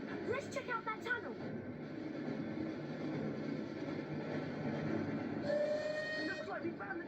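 Train in the PS1 video game Harry Potter and the Chamber of Secrets: a steady rolling rumble with a whistle-like tone near the end, heard under dialogue.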